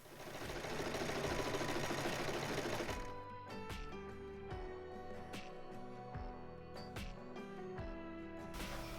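A sewing machine fitted with a false overlock foot stitches over fraying dress fabric. A dense, fast mechanical whir runs for a few seconds and then gives way to lighter clicks and taps, all close and fairly quiet.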